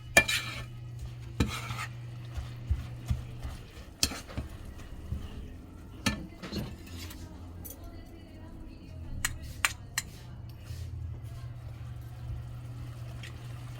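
Utensils scrape and clink against a pan in short strokes as anchovies stir-fry over a low sizzle, with a steady hum and occasional voices in the background.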